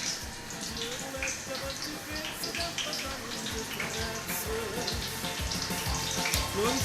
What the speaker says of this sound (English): We will put zucchini to fry.